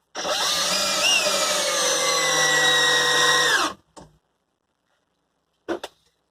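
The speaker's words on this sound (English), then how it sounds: "Right, I'm going to put it on drill rather than torque." Bosch drill running in drill mode, a loud steady whine for several seconds before cutting off, then a couple of brief clicks and handling noises.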